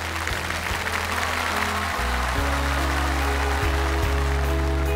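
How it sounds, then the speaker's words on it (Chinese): A television music awards gala audience applauds steadily, a dense wash of clapping layered over sustained background music with no pauses. "掌声送给我们的生生不息荣耀人物。"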